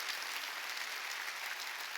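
A church congregation at a service claps hard in dense, sustained applause that stays steady and fairly loud, with no talk over it.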